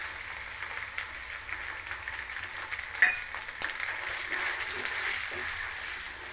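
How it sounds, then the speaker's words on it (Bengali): Tomato paste sizzles as it goes into a frying potol (pointed gourd) curry, giving a steady, loud frying hiss with light stirring and scraping over the top. "তার মধ্যে দিয়ে দেবো আমি এই যে টমেটো একদম পেস্ট করে রেখেছিলাম সেটা"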